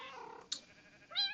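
Cats in the video game Minecraft meowing, with a short, faint mewing call followed by a brief high squeak and another rising meow.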